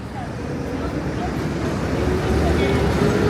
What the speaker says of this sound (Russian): Вот мы дошли до первой большой улицы с шумными автобусами.